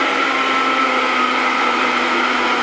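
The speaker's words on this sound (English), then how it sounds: "It's Vitamix, by the way, one of the best gadgets." A Vitamix blender runs at high speed on a breakfast smoothie, giving a steady, loud, continuous whir with no change in pitch and no talk over it.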